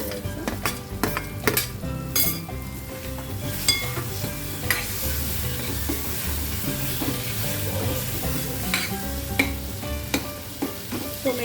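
Pigeon peas and chopped potatoes sizzle and fry in a pan for a potato-fenugreek sabzi, with steady stirring and frequent clinks of a utensil against the metal pan throughout, close and continuous with no talk.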